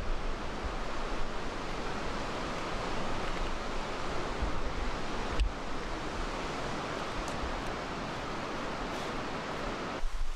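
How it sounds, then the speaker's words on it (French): Water pours steadily from a tap left running, a broad continuous hiss and rush with no break and a faint click near the end. "Qui c'est qui a laissé l'eau couler encore?"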